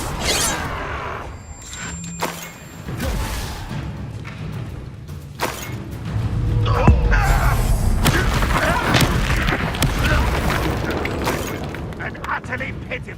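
A Confringo fire spell bursts in the Hogwarts Legacy game with a booming thud, followed by a sustained, louder rumbling blast and crackling effects, under a voice talking.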